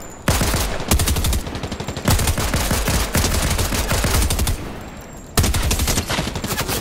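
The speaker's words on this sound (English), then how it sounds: "Now there's another little bot shooting at me." A bot fires in Fortnite with bursts of rapid, loud automatic gunfire. Tight volleys of sharp shots come in several runs, each broken by brief pauses, with no talking over them.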